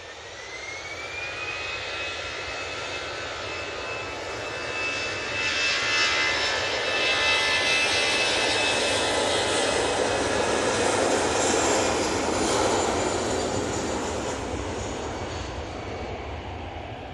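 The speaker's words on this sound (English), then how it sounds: "Next in, the delayed Cathay Pacific A350-900 coming in from Hong Kong." A Cathay Pacific Airbus A350-900 jet arriving at Manchester from Hong Kong, a jet roar with a high engine whine that swells toward the middle and then fades as it passes, with no voices.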